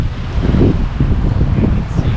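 Strong wind roars across the microphone while sailing on San Francisco Bay, a loud, constant buffeting rush with low rumble and no talk.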